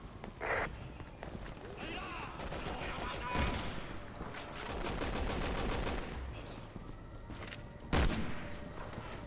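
Gunfire in the Resident Evil 6 video game comes in scattered bursts and single shots over busy game action and footsteps, while a player talks throughout.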